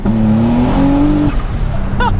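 A tuned car on anti-lag revs hard at high RPM, loud and close, with a rising engine tone, a brief squeal and popping near the end.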